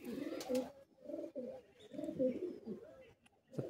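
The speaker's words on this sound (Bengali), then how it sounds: "এটা ফুলশিরা পায়রা আছে" A male Fulshira pigeon coos in a series of soft, throaty rolling calls with brief pauses between them, heard close up.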